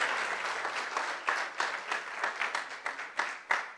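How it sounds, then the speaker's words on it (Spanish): A church congregation applauding steadily, dense clapping from many hands with a few louder swells, no voices over it. "Démosle un fuerte aplauso."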